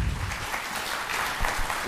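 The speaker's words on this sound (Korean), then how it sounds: "여러분 박수 주십시오." A conference audience applauds to welcome a speaker. Brief, fairly soft clapping runs steadily through the whole moment, with no voices over it.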